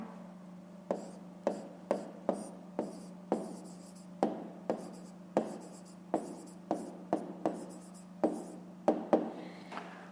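A pen or pencil writes out answers to a fifth-grade maths exercise by hand, giving close, crisp strokes and taps in a steady, irregular rhythm with short pauses and no talking.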